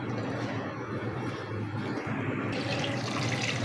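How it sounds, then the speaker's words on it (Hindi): Water running steadily from a tap into a large cooking pot while about two kilograms of water are added for degi-style mutton pulao, a continuous close splashing fill with no talk. "ये तकरीबन 2 किलो पानी इसके अंदर मैंने डाल दिया है।"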